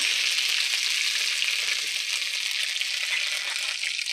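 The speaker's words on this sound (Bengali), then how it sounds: "এটাকে ভালো মতন ভেজে নেবো" Coconut and whole spices such as dried red chilli, cinnamon, cardamom and cloves fry in hot oil for dum aloo, giving a steady, close, even sizzle with no talk throughout.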